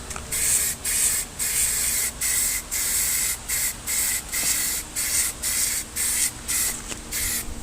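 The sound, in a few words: spray painting a truck door panel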